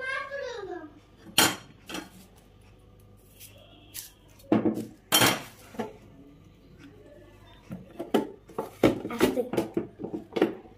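Tomato is pressed down through a manual press chopper, giving a string of sharp plastic clacks and rattling blade strikes in irregular bursts, close and fairly loud, with a faint voice near the start.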